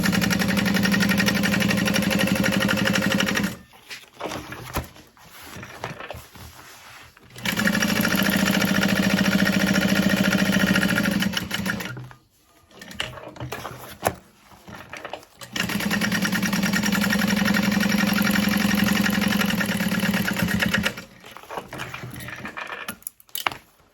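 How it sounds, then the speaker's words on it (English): A sewing machine stitches around the sides of a Karvi Mini backpack in long, loud, steady whirring runs, separated by short pauses with quieter handling noises between them. "And then I can go around sewing all the sides in place."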